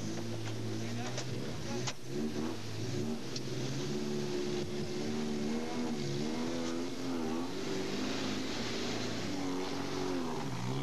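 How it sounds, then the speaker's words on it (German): A second car, an unmarked police vehicle in Chile, drives off with a rising engine roar, heard at moderate distance under a narrator's voice. "Ein zweiter Wagen, offenbar Polizisten in Zivil, setzt sich ebenfalls ab."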